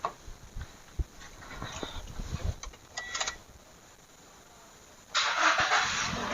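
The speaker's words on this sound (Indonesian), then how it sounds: "Nah, kita nyalain, bos. Dengar sama-sama kita suara mesinnya." A used Toyota Innova Reborn at a car showroom sits through a few clicks and knocks before its engine fires up abruptly and settles into a steady, smooth idle.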